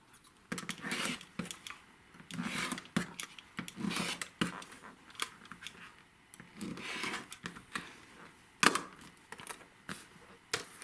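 Trimming a paper-pieced pineapple quilt block with a pineapple trim tool, with a series of close, quiet cuts, shuffles and handling noises in irregular bursts, one sharper click near the end.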